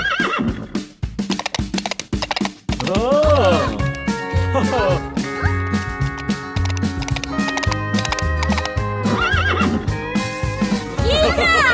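Cartoon horse neighs and whinnies on a farm within an animated children's song, repeated over music and sung vocals, with clip-clop hooves mixed in.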